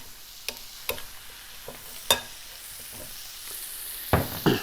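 Teriyaki pork with sesame oil and vinegar being tossed in a hot pan gives a soft steady sizzle, broken by scattered sharp clacks and scrapes of the pan and utensil, heard close with no talking.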